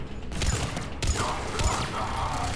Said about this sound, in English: I'm getting shot at by a turret from somewhere.